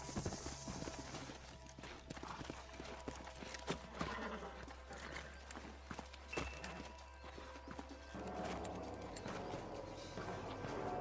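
Horses in the video game Red Dead Redemption clip-clopping at a slow walk and coming to a halt, faint hoofbeats under ambient game sound and brief snorts.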